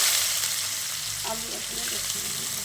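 Chopped onion dropped into hot oil tempered with black cumin seeds, frying with a steady close sizzle and a brief burst of crackle as it goes in, a faint voice in the background.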